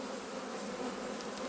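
Honey bees buzzing around an open beehive during an inspection, a dense steady hum of many insects up close and continuous, with no talk.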